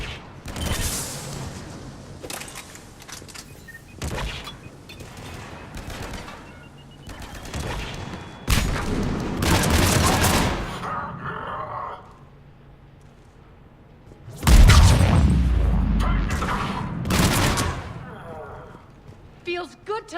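Bursts of gunfire and explosions in a Mass Effect 3 battle on Omega arrive in loud repeated volleys with brief lulls between, including a heavy booming blast near the end, and voices speak amid the fighting.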